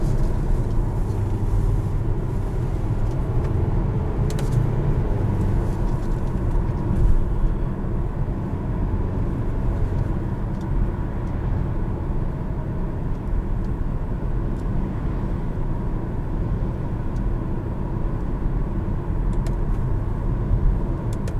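Steady engine and road roar from inside a 2021 Kia Sportage SX Turbo as it accelerates in manual mode with the six-speed automatic, a continuous loud drone with slight swells and no talking.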